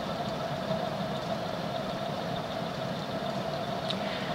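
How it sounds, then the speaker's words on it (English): Westinghouse Deluxe antique ceiling fan from about 1909, 58-inch blade span at 15-degree pitch, spinning near 200 RPM, giving a steady, even whir and motor hum with a faint tonal drone, unbroken and without speech. "with this blade span, 58-inch span, 15-degree pitch, this fan is doing about 200 RPM"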